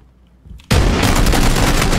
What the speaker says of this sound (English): I got a goddamn pistol.